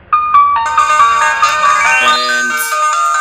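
Bright electronic phone ringtone from a WebRTC call, a quick melodic chime of rising and falling tones played loud and clear, ending in a short trailing flourish with no talking.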